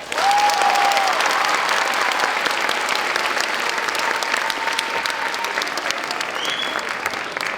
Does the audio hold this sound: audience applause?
yes